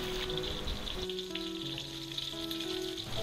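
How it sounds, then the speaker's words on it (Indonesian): Red bird's eye chilies, split open, sizzle in hot oil for sambal, a steady close crackling hiss that runs throughout with faint tonal background sound underneath. "kita goreng cabai rawit merah yang udah kita belah-belah agar tidak meletus saat kita goreng dalam minyak panas"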